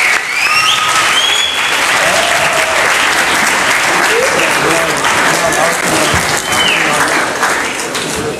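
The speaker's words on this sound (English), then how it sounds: "Please, round of applause." Audience at a synagogue event welcoming a rabbi with loud, sustained applause, dense clapping that fills the whole stretch, with a few scattered voices mixed in.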